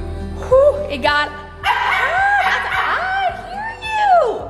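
A dog yips and barks in short bursts among bright chattering sounds and laughter, fairly close and loud, with people's voices mixed throughout.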